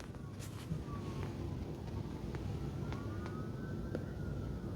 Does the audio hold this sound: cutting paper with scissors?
no